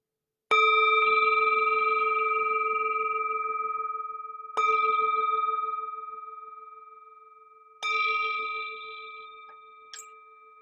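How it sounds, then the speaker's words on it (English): A meditation bell is struck three times, each deep, clear ring fading slowly into silence, with a faint light tap near the end. "we begin with the sound of the bell"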